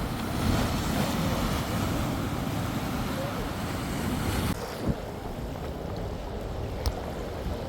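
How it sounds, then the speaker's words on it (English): Ocean waves breaking below a low cliff edge on the Jamaican coast, a steady loud broadband wash mixed with heavy wind buffeting on the microphone, with a brief sharper thud near the end. "Look at them waves."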